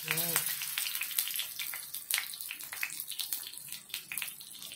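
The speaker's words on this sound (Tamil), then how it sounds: "போட்டாச்சு மீனை. எப்படி ஃப்ரை ஆகுது பாருங்கள்." Half a kilo of fish coated in ginger garlic paste frying in a pan, giving a dense, steady hissing sizzle with crackles throughout, heard close and fairly quiet with no voices.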